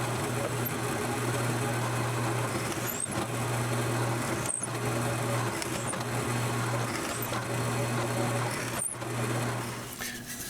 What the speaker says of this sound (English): So let's get some holes drilled.